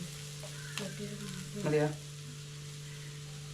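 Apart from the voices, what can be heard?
stirring and frying masala with turmeric in a pan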